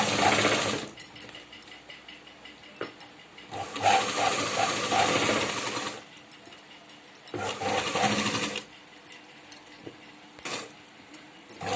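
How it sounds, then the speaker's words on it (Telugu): A sewing machine runs in a few sustained stretches while a blouse lining is joined and the cloth is guided along, its steady mechanical hum broken by brief pauses and light clinking. "ఈ విధంగా క్లాత్ అనేది ఇలా జరుపుకుంటూ మనం స్టిచ్ చేసుకోవాలి"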